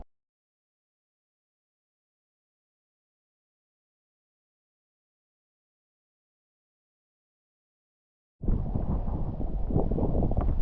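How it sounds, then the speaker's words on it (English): Strong sea wind buffets a kayak off Filfla and the Blue Grotto, arriving as a loud, rough gust of microphone rumble after a long silence and lasting only the final couple of seconds. "The wind has not slowed down at all."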